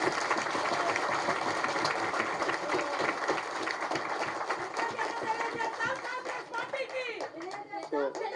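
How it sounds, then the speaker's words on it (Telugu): A crowd at a meeting of SC community associations with the Chief Minister claps steadily in a dense, sustained patter, thinning slightly toward the end, with voices mixed in. "మీరు పెద్ద ఎత్తున చప్పట్లతో అభినందించారు"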